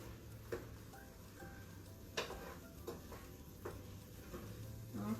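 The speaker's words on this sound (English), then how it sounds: "So I'm going to go ahead and add the basil. Okay. I'm going to stir that in." Basil is stirred into a quietly sizzling pan, giving soft scraping and a few clinks of a utensil over a faint, low frying hiss, with no talking.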